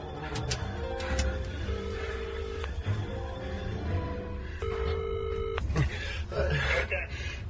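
A telephone at a roadside phone booth used to call the police, with dial tones, clicks and ringing tones in sequence, fairly close and clear, while a voice speaks intermittently.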